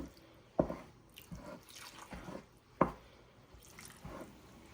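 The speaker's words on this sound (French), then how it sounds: "je vais essayer d'arroser mon couscous avec de l'eau" Water sprinkled by hand onto steamed couscous for Moroccan vegetable couscous: several separate wet splats and drips at uneven intervals, close and moderately loud, with quiet gaps between them and no voices.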